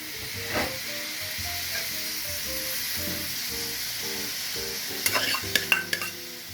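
Steady sizzling of carrots stir-frying in sesame oil in a hot pan, with a spatula scraping and clinking against the pan toward the end.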